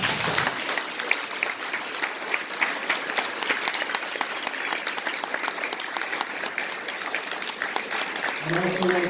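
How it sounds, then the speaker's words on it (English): An audience at a town council candidates forum breaks into steady, even applause that carries through the whole stretch, with a voice starting to speak just at the close. "Thank you, and you now can applaud."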